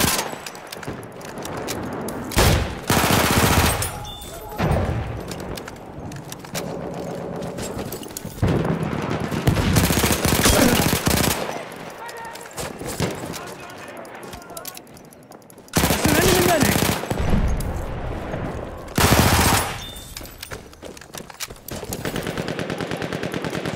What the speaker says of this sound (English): There's a machine gun!